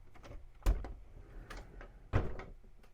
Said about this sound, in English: Now we try the door, and it swings much more freely.